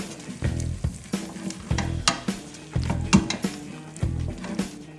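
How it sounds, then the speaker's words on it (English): A spoon scrapes and stirs meat into queso mac and cheese in a sizzling pan, giving repeated rhythmic clinks and scrapes against the metal over a steady frying hiss, close and clear. "And we're going to stir it up real good."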